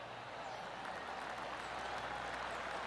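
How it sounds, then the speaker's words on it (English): Golf gallery applause in the video game PGA Tour 2K23 after a good approach shot, a steady wash of clapping held at an even level for the whole stretch, with no voices standing out. "That deserves a golf clap."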